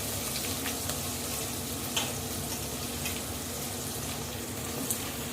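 Onions and tomatoes fry for a ridge gourd and dried prawn curry, producing a constant close sizzle with occasional faint clicks from the pan.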